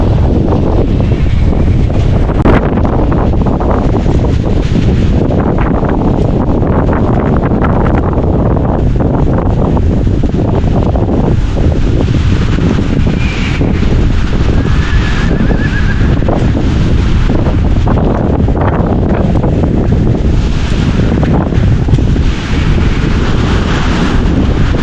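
Strong wind roars and buffets the microphone during a typhoon-like storm with heavy rain, a dense, continuous rushing blast that stays loud throughout with no pauses.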